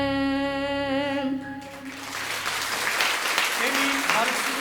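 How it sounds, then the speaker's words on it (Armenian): A sustained musical note at a school concert fades out and the audience breaks into loud, dense applause that carries on to the end. "եկեք բարձր ծափահարենք"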